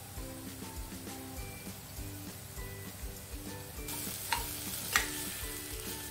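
Potatoes frying with turmeric, chilli powder, cumin and coriander powder for a potato and moong dal curry, a moderate sizzle under a low droning hum, with a couple of sharp scrapes of stirring near the end, no talking.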